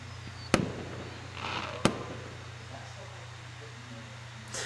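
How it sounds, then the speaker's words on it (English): Fireworks explode in the video game Angels With Scaly Wings: two sharp, loud bangs about a second apart, each followed by a crackling fizz over a low steady hum. "We've got fireworks, interesting."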